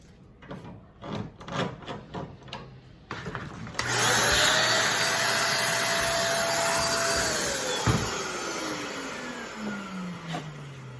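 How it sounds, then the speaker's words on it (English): A vacuum cleaner switches on after some clattering and whines steadily nearby, its pitch dipping and sliding as it runs, then winding down. "Lots to vacuum."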